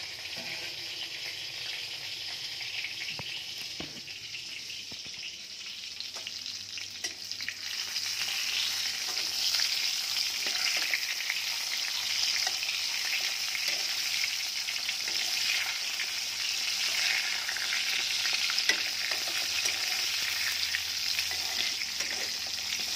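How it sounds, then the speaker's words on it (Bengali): Eggplant fries in a pan with a continuous, close crackling sizzle that grows louder and denser after the first few seconds, then holds steady to the end with no talk. "বেগুনটা হালকা হালকা ভাজা হয়ে গেলে একটু বের করে নিই"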